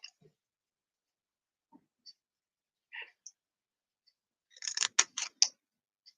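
Scissors snip through a white paper mat in a quick burst of several crisp cuts near the end, after a few faint isolated clicks and handling taps in an otherwise quiet room.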